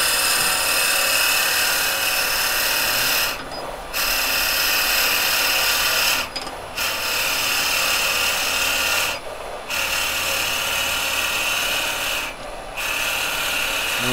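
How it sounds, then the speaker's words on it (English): A drill bit bores steadily into wood on a woodturning lathe, giving a continuous loud rasping grind that briefly dips four times at regular intervals as the bit is backed out. "I'm going right down to the full depth of the drill bit"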